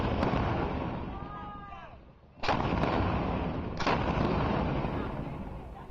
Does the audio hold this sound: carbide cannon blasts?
yes